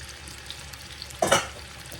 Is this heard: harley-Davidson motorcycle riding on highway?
no